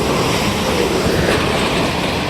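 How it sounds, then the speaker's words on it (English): A freight train passes through St Denys station with a loud, close, continuous rumble and clatter of wagons, steady throughout. "the freight train's still going"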